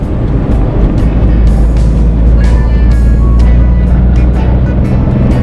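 A manual car's engine drones loud and steady from inside the cabin just after an upshift into fourth gear, with road noise beneath it.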